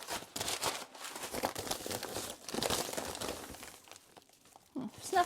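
A heavy package from an Amazon returns pallet is unwrapped from its bubble wrap, with continuous close crinkling and rustling of plastic in irregular bursts, and a brief quiet spell near the end.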